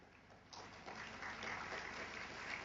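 An audience at a teacher, parent and community engagement programme breaks into applause, starting softly then swelling into steady, fairly distant clapping that carries on to the end.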